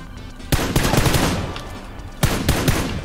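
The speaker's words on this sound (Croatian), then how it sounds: "Da, ali se pucaju međusobno" Gunfire in the video game PUBG: two loud bursts of rapid shots, one early and one near the end, each followed by echoing decay over a low ambient background.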